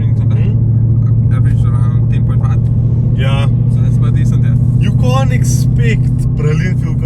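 Ford Mustang California Special V8 engine rumbling steadily at a low, continuous idle or cruise, heard from inside the car under ongoing conversation.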